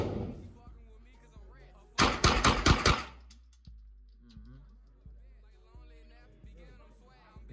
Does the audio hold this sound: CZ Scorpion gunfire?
yes